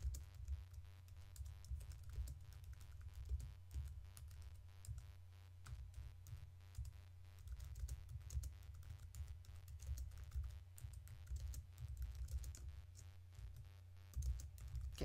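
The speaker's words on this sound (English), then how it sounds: "I'm going to type some text." Steady computer keyboard typing, with rapid key clicks running continuously and closely miked, entering text in Impact font in a design program, with no talk over it.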